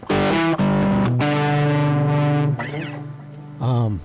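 Electric guitar through a Maxon SD9 overdrive pedal, with a driven tone, plays sustained chords and a few bends, with a wash of delay trailing the notes; no one speaks.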